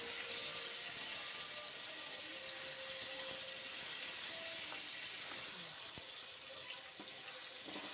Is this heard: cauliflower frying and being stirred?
yes